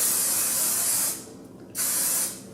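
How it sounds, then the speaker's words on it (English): Aerosol hairspray sprayed onto hair in two long hissing bursts, the first lasting about a second, then a short pause before a second burst, close and loud. "I'm gonna once again put in a lot of hairspray."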